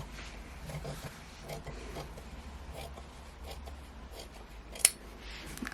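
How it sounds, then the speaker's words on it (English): Scissors trim the fabric lining of a handmade doll dress, giving soft, quiet snips and rustling cloth with one sharper cut near the end. "just trimming your lining by a few millimeters all the way around"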